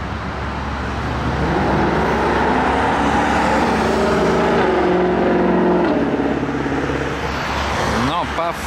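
A Ford Mustang, an American car arriving at a Gumball 3000 event in France, accelerates past with a loud, sustained engine roar that swells and holds for several seconds before easing off, crowd noise faint underneath.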